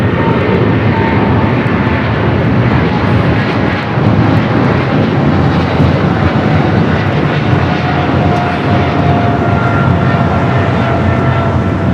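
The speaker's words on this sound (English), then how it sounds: "China Airlines cargo 777 and now rotating off 25" A China Airlines cargo Boeing 777 takes off from runway 25 right at Los Angeles airport, its engines making a loud, steady roar that holds without a break. No voices can be heard over it.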